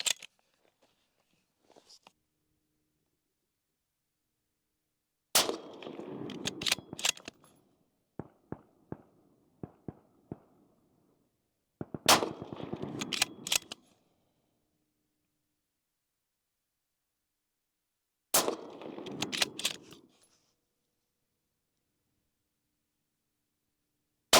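Three sharp cracks from a Remington 700 .223 rifle firing Hornady 55 grain and Federal 69 grain loads, spaced several seconds apart, each with a short echoing tail and light handling clicks between them.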